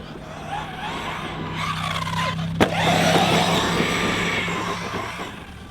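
A Maverick Quantum+ XT Flux RC car on 2S with stock tires and stock setup whines and skids across the ground, its electric motor buzzing steadily with a sharp knock midway.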